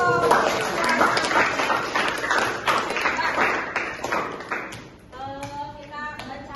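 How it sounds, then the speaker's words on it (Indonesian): Classroom audience at a school clapping together, a dense burst of hand claps that fades out, followed by a voice talking. "Tepuk tangan dulu dong"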